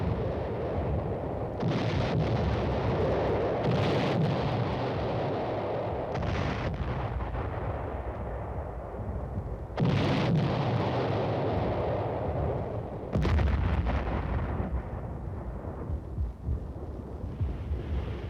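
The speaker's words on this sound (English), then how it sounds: "Regular artillery pieces are now brought into play for this concentrated bombardment." A concentrated artillery bombardment during a military exercise in Europe: heavy booms and roaring blasts follow one another over a constant low rumble, about five strong reports spread across the span.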